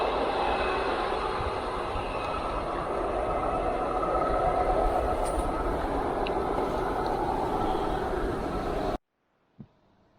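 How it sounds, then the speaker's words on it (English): A train rolls past an unmanned railway crossing, a loud, steady rumble and clatter that lasts about nine seconds before it cuts off abruptly into near silence. "we just pulled over for this lovely train crossing here, this unmanned crossing"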